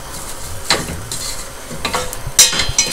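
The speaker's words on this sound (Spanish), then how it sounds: "Vamos a rehogar, en primer lugar, los puerros." Leeks are being sautéed in olive oil in a pan. A steady, close sizzle runs throughout, broken by several stirring scrapes and light utensil clinks, with a brighter clack near the end.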